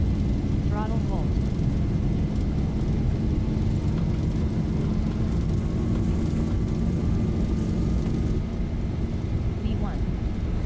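Boeing 737 jet engines in the X-Plane Zibo mod flight simulator, holding a steady, loud broadband roar at takeoff thrust throughout, with a constant low hum and faint whine overhead, while a voice speaks briefly over it.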